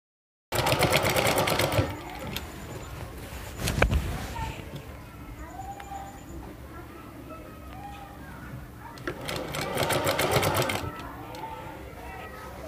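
Sewing machine stitching a salwar waistband, two loud rapid bursts of running stitches at the start and near the end, with a quieter stretch between them.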